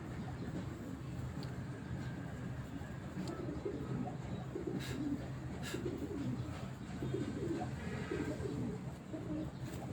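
Pigeons coo softly and repeatedly against a steady background hum, with no voices present.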